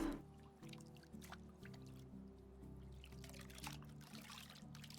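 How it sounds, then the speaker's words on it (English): Water pouring and trickling as a water skin is refilled in a farming life video game, a soft, faint liquid flow over a quiet, steady musical background. "Refill our water skin."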